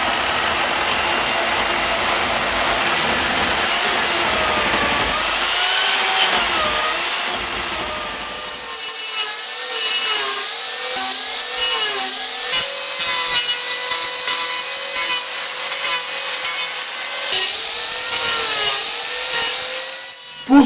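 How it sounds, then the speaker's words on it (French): A chainsaw cuts and carves soft wood, its buzzing engine rising and falling in pitch as the blade bites and lifts, with a rougher tearing stretch early on, loud and close throughout. "ça va trop vite la tronçonneuse"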